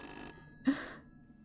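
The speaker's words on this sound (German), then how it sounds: "das Telefon klingelt ohne Kabel" A phone ringing in the horror game Little Hope, a corded telephone with its cable cut: two short electronic bell bursts, one fading out and another following after a brief gap, fairly faint and heard alone.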